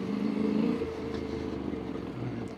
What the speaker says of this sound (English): I'm very curious to listen the engine sound